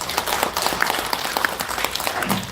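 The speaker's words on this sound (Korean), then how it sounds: "박수 부탁드립니다" Crowd applause at a political party's founding convention in Korea, a dense, continuous clapping from a hall audience, moderately loud and steady throughout.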